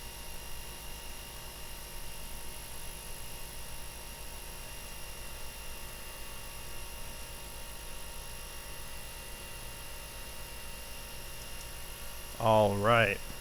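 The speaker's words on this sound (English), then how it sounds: "My air compressor in the background, I don't know if you can hear it." An air compressor runs steadily in the background of an electronics repair bench, a continuous low hum and drone throughout, with a brief voice at the very end.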